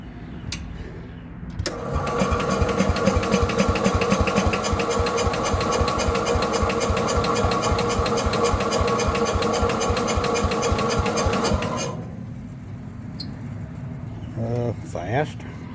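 Small Case tractor engine at about half throttle with partial choke, in neutral, starting abruptly and running with a fast, steady, buzzing pulse for about ten seconds before cutting off.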